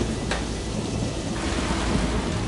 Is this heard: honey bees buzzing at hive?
no